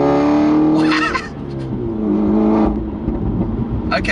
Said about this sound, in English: nice pops and crackles there